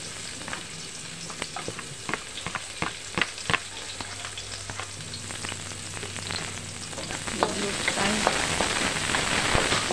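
Garlic and onion sauté in a pan for pancit bihon guisado, a steady frying sizzle with scattered sharp crackles and spatula scrapes, growing a little louder toward the end.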